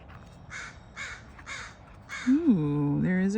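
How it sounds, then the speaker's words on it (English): A crow caws four times in a steady, evenly spaced series, moderately loud outdoors, followed by a louder tonal sound at the end. "Ooh, there is a crow friend."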